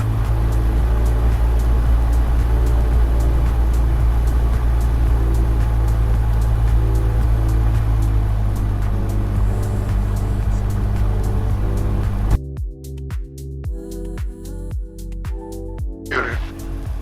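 Light aircraft piston engine running at 1700 rpm while taxiing at night, a loud steady drone close up that changes abruptly near the end into a rougher, pulsing hum.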